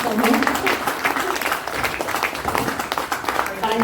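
Applause from a live audience at an Independence Day poetry performance in Pune, a dense broadband patter of clapping filling the whole stretch with mixed voices and cheering underneath.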